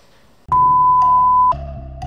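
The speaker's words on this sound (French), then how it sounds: "quand j'entends un bip qui est tout à fait anodin comme le bip du micro-ondes" A microwave oven gives one sharp, sustained electronic beep of about a second, close and clear, followed by a fainter lingering hum.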